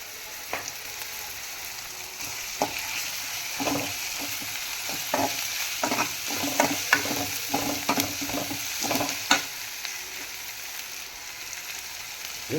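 Chicken with ginger garlic paste frying in a pan, a steady sizzle punctuated by repeated scraping stirs of the spoon through the middle stretch, close and alone without talk.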